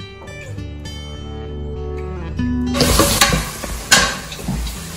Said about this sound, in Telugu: మన ఉల్లిపాయలు, పచ్చిమిరపకాయలు కొద్దిగా వేగాయి